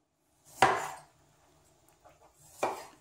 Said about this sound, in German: Ich fange jetzt damit an, dass ich Knoblauch und Ingwer klein schneide.